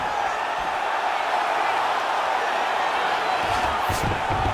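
Crowd noise fills a UFC fight video game arena, a steady broad roar of cheering that holds loud and continuous throughout, with a few brighter whoops rising near the end.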